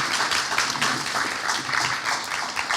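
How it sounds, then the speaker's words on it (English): Steady audience applause at an incubator cohort showcase, a dense, even wash of clapping from a sizable crowd that carries unbroken from start to finish. "Can we please give these folks a round of applause?"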